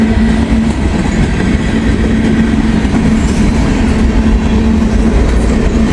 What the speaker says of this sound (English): Big bright blue boxcar.